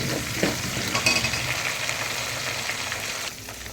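Onions and curry leaves crackle and sizzle in hot oil for a cauliflower soup, a loud, close, continuous frying hiss with a few stirring scrapes and a drop in level near the end.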